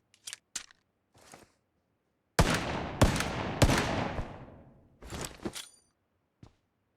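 Gunfire from the Mesut Komiser gun in a shooter game: a few light clicks and pops, then three loud shots in quick succession with ringing tails, followed by fainter pops and one last small snap; no voices.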